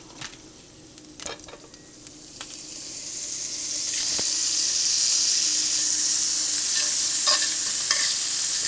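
Butter sizzles in a hot pot, quiet scraping and clinks at first, then a steady loud sizzle swelling and holding to the end.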